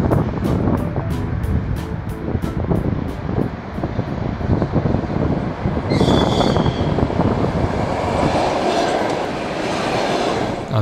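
An Aeroexpress airport train rumbles steadily past with rhythmic clacking of wheels over rail joints, a brief higher hiss or squeal rising midway, continuous and fairly loud.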